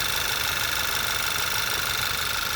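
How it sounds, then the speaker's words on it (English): Idling four-cylinder engine of a 2013 Volkswagen GTI, a steady close mechanical hum with a light, rapid valvetrain tapping running evenly throughout, no voices. "Got your normal tap of any German four-cylinder."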